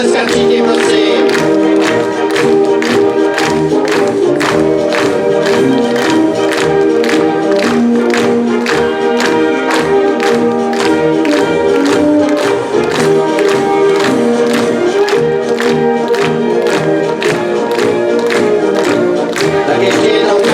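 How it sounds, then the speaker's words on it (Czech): Audience at the 2022 Dušnické Máje Czech folk dance festival applauding as the dancers make their ceremonial exit, loud sustained rhythmic clapping over steady upbeat brass folk music. "Pojďme do toho zatleskat všichni, prosím."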